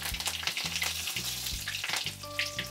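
Mustard seeds, cumin and curry leaves sizzle in hot oil, a close, constant crackling hiss punctuated by repeated low stirring scrapes, with no talking.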